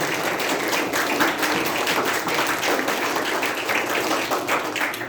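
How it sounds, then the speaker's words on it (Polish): Audience applause for the Gama folk ensemble at a Constitution of 3 May anniversary assembly, steady dense clapping filling the hall without a break. "gorące brawa dla zespołu Gama za piękne pieśni"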